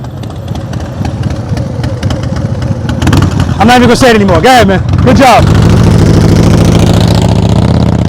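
A Harley-Davidson Fat Boy motorcycle engine runs nearby during a slow-speed riding practice session, a low steady rumble that gets louder and fuller in the second half. Someone talks loudly over it in the middle.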